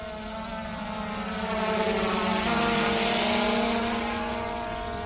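A Visuo K3 drone flies at its lowest speed setting, a steady high-pitched propeller whine with rich tonal hum that swells slightly louder as it passes nearer, then eases off, with no voices.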